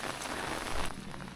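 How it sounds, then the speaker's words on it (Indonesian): Rain falling steadily on a misty mountain hiking trail, a dense close patter on the ground and surrounding surfaces with no one talking. "Aduh, hujan."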